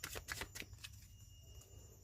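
Tarot cards are shuffled by hand in quick, crisp riffles, a burst of papery flicks at the start that fades into quieter handling, close and soft with no voices.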